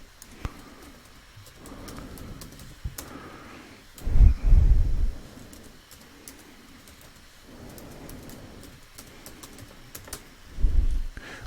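Someone types on a computer keyboard, soft scattered key taps under a faint room hum, broken by a couple of louder low thumps and bursts of rustling.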